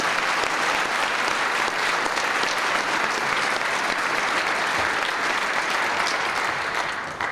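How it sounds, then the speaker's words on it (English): Loud, sustained applause from an audience at an event honoring the US Education Secretary, a thick, unbroken roar of many hands clapping that continues for several seconds and drops off briefly at the very end. "let's give another round of applause for our team at Howard"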